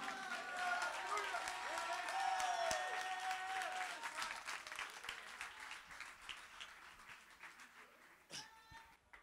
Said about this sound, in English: Clap it up for Jesus.